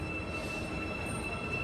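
A South Korean train bound for Busan rumbles steadily, with a high thin squeal running over the constant low roar of rolling wheels.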